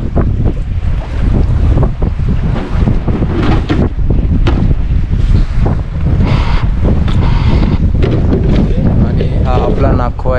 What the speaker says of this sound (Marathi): तर वारा पण खूप आहे.